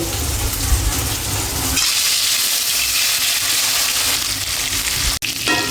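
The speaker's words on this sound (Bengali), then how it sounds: "তেল গরম হয়ে গেছে, এখন আমি মাছের মাথা ভেজে নেব" A fish head sizzles in hot oil in a pan, a loud, continuous frying hiss with a sharp crackle near the end.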